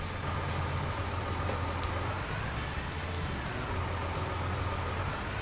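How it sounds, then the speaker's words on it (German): Rain in the farming game Landwirtschafts-Simulator 19 makes a steady, even wash of noise, with a low engine-like hum running underneath for the whole stretch and no talk. "Also der Regen ist gut."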